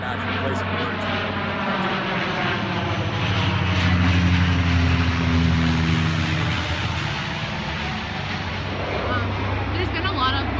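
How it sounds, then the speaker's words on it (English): A firefighting bomber aircraft passes overhead near a wildfire in British Columbia, a loud continuous engine drone with steady low tonal hum that swells in the middle and eases off, with a voice faintly audible under it. "There's been a lot of bombers coming over top here"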